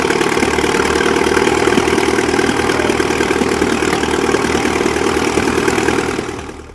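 Gasoline engine of a 1929 Case Model L heavy-duty tractor idling steadily with a rough, knocking mid-low chug, loud and close, fading slightly at the end; no one speaks.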